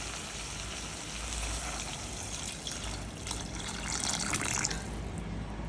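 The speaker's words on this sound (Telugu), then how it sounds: "ఇప్పుడు మనం దీనిలో వాటర్ పోసుకోవాలి." Water poured into a pot of softened, cooked vegetable pieces: a steady, close rushing splash that swells slightly toward the end, with no voices.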